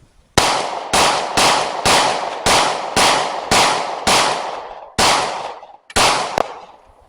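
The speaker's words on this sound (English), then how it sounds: "It's always fun shooting a Glock." Ten rapid pistol shots from a Glock firing Winchester 115 grain full metal jacket rounds, loud and close, each sharp crack followed by a short echoing decay, evenly spaced at about two per second with a brief pause near the end.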